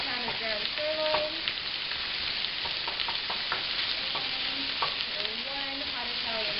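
Half a pound of ground sirloin frying in hot oil in a pan, a continuous close sizzle with scattered pops and faint scraping, alone without speech.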